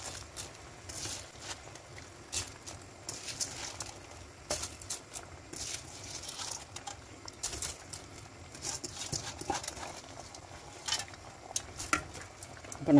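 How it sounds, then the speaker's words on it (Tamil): Basmati rice is stirred into boiling coconut milk in a pot. A spoon makes intermittent scrapes and light clinks against the metal over a soft, continuous background, all fairly quiet. "இப்போ நல்லா கலந்து விட்டுக்கோங்க"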